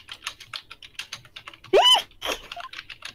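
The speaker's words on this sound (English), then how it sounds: "Who's typing?" Rapid typing on a computer keyboard, steady clicking keystrokes close to the microphone, with a brief vocal noise partway through.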